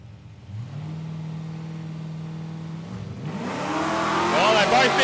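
A Valiant Coupe drag racing at Palmyra Raceway, an engine idling with a steady low hum, then revving hard and rising in pitch as the car launches, loud and close, with a voice talking over it.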